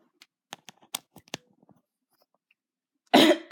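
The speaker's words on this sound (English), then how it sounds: "Can't believe you're coughing it again" A sick person coughs once in a loud, close, harsh burst at the end, after a few faint scattered clicks and rustles in an otherwise quiet room.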